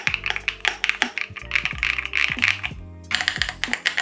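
Rapid clacky keystrokes on a mechanical keyboard with a clear acrylic case and matcha latte V2 switches, a dense run of close, crisp taps with a brief pause near the end before typing resumes.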